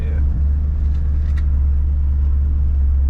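A Roush Terminator 10th Anniversary Cobra engine idles unevenly with a rough, bogging, high idle, a loud steady low rumble close by.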